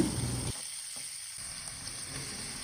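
Garlic, curry leaves and sliced onion frying in hot oil for an egg and drumstick curry, a steady close sizzle with a brief dip in the middle before the crackle resumes.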